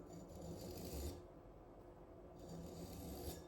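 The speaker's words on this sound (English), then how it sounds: "A couple really nice passes like that. Make sure you're really tight on the sandpaper." A gut hook knife blade being sharpened by hand on sandpaper: soft, steady rasping strokes, two longer passes with a pause between, close but quiet, with no talk.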